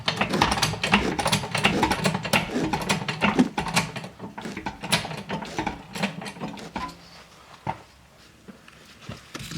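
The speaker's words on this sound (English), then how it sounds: "I'm going to jack up the lower arm, put a bit of tension onto the spring." Steady ratcheting clicks and mechanical clatter while a jack raises the rear lower suspension arm of an Audi A4 B8 to compress the coil spring, loud and close, no talking.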